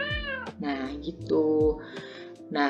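A cat meow sound effect from a Scratch game's sound library rings out a few times, short wavering mews at the start and end with a person talking in between.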